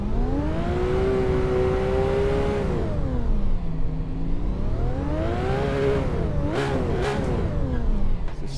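A Porsche 911 R engine in the game Assetto Corsa at Red Bull Ring revs up and down in long sweeping pitch rises and falls, loud and steady, with a couple of quick throttle blips near the end.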